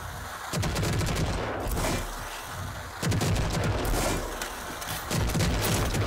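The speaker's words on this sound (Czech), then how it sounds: "Use the smart rocket launcher's overdrive against the simulated enemies." Smart rocket launcher in overdrive firing in the shooter game Rage 2: loud bursts of rapid launches and explosions in three clusters separated by brief lulls, no talk.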